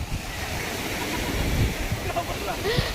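Sea waves washing in at Devka beach, a close, continuous rushing wash of surf with gusts of wind buffeting the microphone, while a voice speaks faintly underneath.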